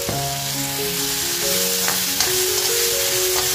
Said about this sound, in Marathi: मिडियम गॅसवर मस्त हा टोमॅटो फ्राय करून घेते